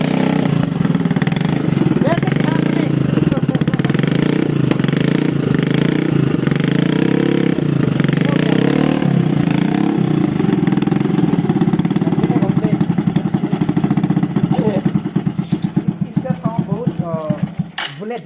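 A motorcycle modified to look like a Bullet and running on LPG cooking gas idles loudly and steadily up close for most of the time, someone speaking over it before it tails off.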